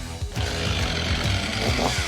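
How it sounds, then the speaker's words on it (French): A Stihl MS 500i chainsaw, 79 cc engine, revs and bogs with shifting pitch while delimbing felled trees in a forest, cutting steadily and loud up close, with short throttle bursts throughout. "Pour cela, Marvin et Antoine utilisent une tronçonneuse très prisée dans le milieu forestier."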